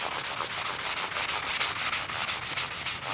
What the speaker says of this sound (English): I generally come in here with a sanding block of some kind